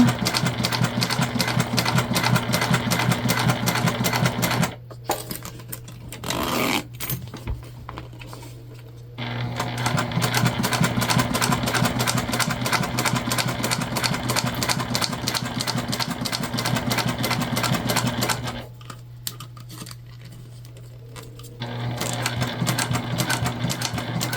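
Sewing machine with a tank foot stitching in bursts, a fast mechanical rattling hum that runs steadily, halts twice for a few seconds with faint clicks in between, then starts up again, loud and close.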